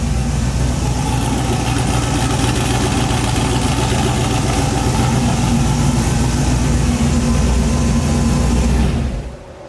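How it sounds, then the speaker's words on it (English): A Mazda RX-7 rotary engine idles at around 900 rpm, a loud, close, steady rumble that holds evenly for about nine seconds before cutting off abruptly. "Idling right about like 880, 900, somewhere in there. It sounds pretty good."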